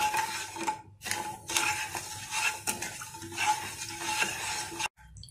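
Sugar and water are stirred in a kadai with a utensil, giving continuous close scraping and clinking against the metal pan that stops abruptly near the end.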